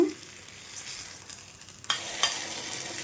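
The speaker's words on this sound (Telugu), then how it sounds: "ఈ విధంగా తిప్పేసుకొని రెండో వైపు కూడా మంచిగా మనకు వేగాలండి" A bun dosa fries in a pan with a steady, quiet sizzle, then the sizzle grows brighter and louder partway through, and a few light clicks come near the end. Nobody speaks.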